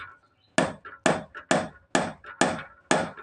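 A hammer drives a nail into hard wood with six sharp, evenly spaced strikes, each a loud close crack with a short ringing decay and no talking.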